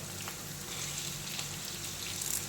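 Eggs and vegetables fry and get scrambled in a hot pan for a Kerala-style veg egg thoran, with a steady close sizzle and faint stirring scrapes, no voices.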